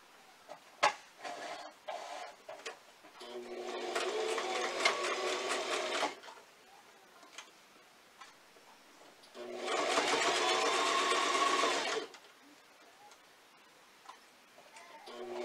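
Sewing machine stitching across fabric while making a face mask, two steady mechanical whirring runs of a few seconds each separated by quiet handling clicks, close and clear.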